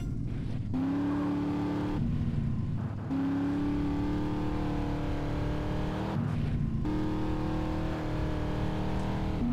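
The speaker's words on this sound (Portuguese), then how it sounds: "E a gente tá ganhando as corridas com o carro da Catalina aqui, né?" A race car engine in GTA San Andreas drones steadily, rising in pitch through each gear and then dropping as it shifts, repeated several times over nearly ten seconds without talking.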